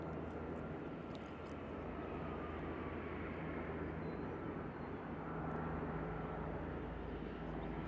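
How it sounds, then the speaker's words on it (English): A light airplane taxiing at Nashville airport on a windy day, a steady broadband engine drone with low hum held throughout, continuous and moderately distant, no talk. "he's wasting no time taxiing"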